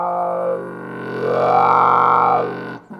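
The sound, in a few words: trombone with wah-wah mute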